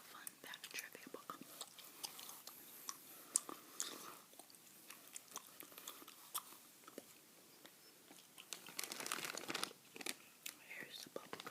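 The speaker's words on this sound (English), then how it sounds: "Here's the bubble gum. I'm chewing tonight, by the way." Close, quiet chewing of Bazooka bubble gum in a soft ASMR setting, with wet smacks and faint crinkles repeating irregularly under soft whispering throughout.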